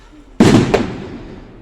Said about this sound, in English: There's a fireworks display going over there and there's one over here